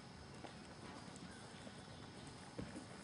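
Faint clip-clop of a horse's hooves on the ground during a riding lesson, quiet and distant with soft irregular footfalls under background noise.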